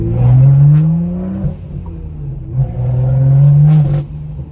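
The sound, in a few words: straight-piped BMW N55 engine overrun brap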